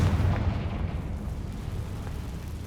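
A Confringo blasting curse explosion from the Hogwarts Legacy video game, a dense low rumbling boom that stays heavy and sustained before easing slightly, with no voices over it.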